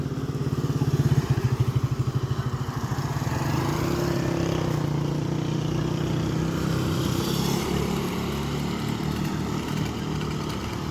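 A motorcycle engine runs close by with a rough, pulsing throb that revs up early, then settles into a steady, loud idle-like drone for the rest of the stretch.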